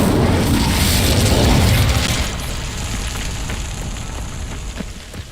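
Fiery spell blast in the wizarding game Hogwarts Legacy, a loud broadband burst with crackling rush that holds for about two seconds, then settles into a lower sustained roar and sizzle.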